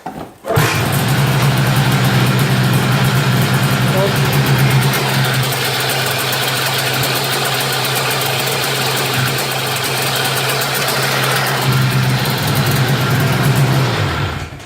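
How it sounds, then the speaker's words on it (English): A Yamaha Phazer snowmobile engine, a PZ480 being rebuilt, starts cold with a sharp burst and then runs at a steady, loud, close idle with a buzzy, knocking vibration that holds for over ten seconds. "So we have a running engine"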